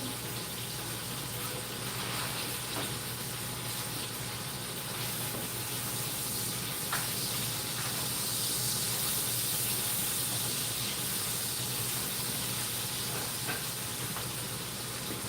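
Sausage sizzling in a hot pan during home cooking, a steady dense hiss that stays even and close throughout with no talking.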